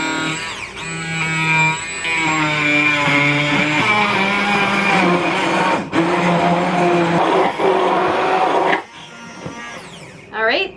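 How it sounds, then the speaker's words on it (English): A countertop blender whirs continuously, blending bananas and cherries into a smoothie, its motor pitch shifting with the load before stopping near the end. "Let's start blending. You push the button up here to get started."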